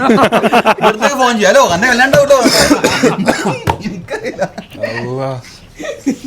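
A single short cough breaks into lively talk, followed by chuckling voices nearby.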